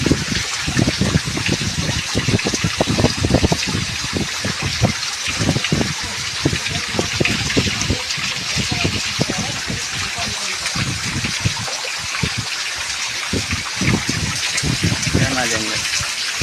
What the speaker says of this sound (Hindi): वो देखिए झरना, वाटरफॉल।